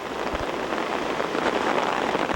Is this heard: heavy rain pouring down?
yes